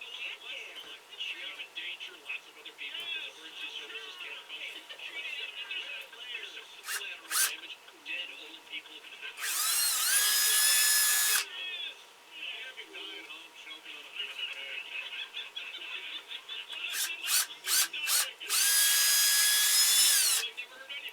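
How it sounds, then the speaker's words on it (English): A drill with a 1/4 inch bit bores a hole in wood for a carved ventriloquist figure, two loud bursts of whining drilling between rubbing and handling noises, with people talking between. "I got a 1/4 inch drill bit, and we're going to drill a hole open here."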